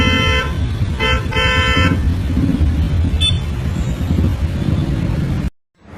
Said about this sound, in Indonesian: mereka terus-terusan diklakson oleh bus